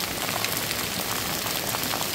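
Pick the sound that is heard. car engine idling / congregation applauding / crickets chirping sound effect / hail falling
hail falling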